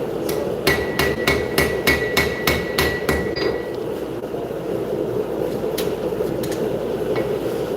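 Repeated hammer blows ring against an anvil during blacksmith forging at a live show, about ten evenly spaced metallic strikes in the first few seconds, then a few scattered clinks over a steady background hum of the venue.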